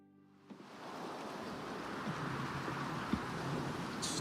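Rain falls in the video game Oblivion Remastered, a steady hissing wash that swells in after a quiet start and holds evenly, with a few faint thuds and clicks.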